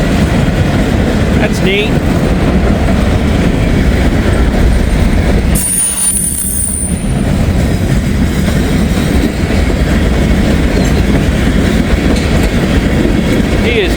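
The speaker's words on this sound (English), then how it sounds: "and other Norfolk Southern train is going to come this way" Norfolk Southern freight train with open auto racks rolling past trackside, a steady loud rumble of railcars and clacking wheels filling the whole stretch, with faint wheel squeal and a brief comment from a nearby voice.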